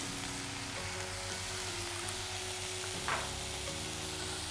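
Ginger drops into a hot pan of aloo tikki filling with cabbage, giving a steady close sizzle with low frying hum and a brief rustle of pieces landing midway.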